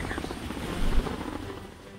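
A helicopter rotor from the video game Homefront drones steadily with a thumping low rumble that swells briefly midway, alongside faint background game noise.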